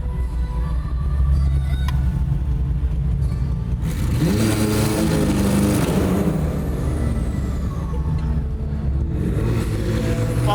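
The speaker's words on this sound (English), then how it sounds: "Well, launch control works." A McLaren 600LT, rebuilt after a crash, launches under launch control: the engine idles, then roars loudly as revs climb through rising gear sweeps, and the sound fades into the distance as the car pulls away.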